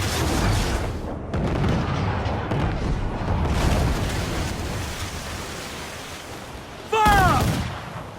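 Naval mortar and cannon fire in Assassin's Creed Black Flag: loud, continuous booming barrages and rumbling blasts, with a sharper burst near the end, under faint game voices.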